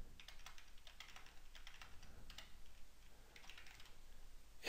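A credit card number is typed on a computer keyboard, with soft, quick keystrokes in uneven bursts. The clicks are quiet and close, with no voices.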